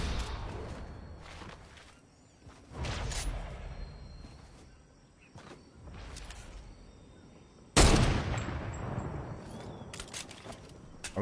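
Sniper rifle gunfire in a video game, several loud sharp shots spread out with quieter rumbling and scattered action sounds between them, the heaviest blast late in the sequence.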